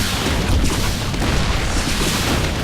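Siege tanks in StarCraft II pound away in a dense, continuous barrage of deep booms and blasts, loud and layered with no pauses between impacts.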